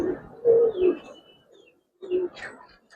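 Giribaz coloring pigeons coo in low, throaty bursts, two close phrases followed by a pause and another, with a faint voice in the background.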